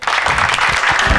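Warm burst of applause from a game-show audience welcoming the red team, dense close clapping filling the whole short moment.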